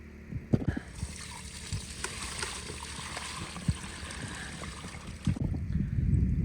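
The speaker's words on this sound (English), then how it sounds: "we are all cleaned out and ready to do some panning" Water sloshes and swirls in a gold pan while panning sluice concentrates in bush Alaska, a soft irregular swishing with scattered light knocks and a louder rumble near the end.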